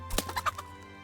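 Video game chickens give a quick run of about five short, quiet clucks in a little over a second, heard alone.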